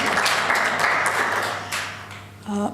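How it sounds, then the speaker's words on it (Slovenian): Indoor audience applause at a Women's Day event, a dense patter of clapping from a seated crowd that thins and fades, with a brief voice near the end. "Hvala, zasluži aplavz, a ne?"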